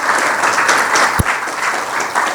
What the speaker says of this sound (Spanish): si le podemos dar un gran aplauso